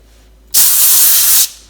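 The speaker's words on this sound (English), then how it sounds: "I'm using some cooking spray" A single continuous burst of cooking spray, about a second long, hisses loudly onto a foil-lined baking sheet prepared for an air fryer, then cuts off sharply.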